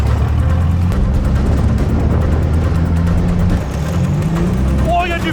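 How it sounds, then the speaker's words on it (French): Loud, steady engine rumble from a four-wheeled vehicle driving fast over rough ground during an airsoft operation, with urgent voices shouting over the continuous low drone. "c'était une voiture avec 4 roues"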